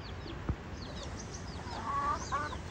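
Backyard-farm gamefowl cluck softly at close range, a couple of short low clucks and a brief higher call, with faint chirps of other birds over a steady outdoor hum.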